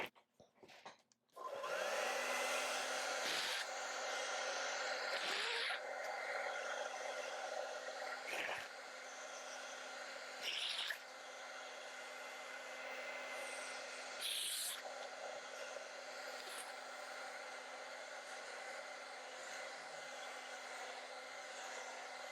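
A hair dryer drying acrylic paint on a sunflower painting whirs with a steady loud hum for about twenty seconds after it switches on, with a few brief bumps and shifts in its tone.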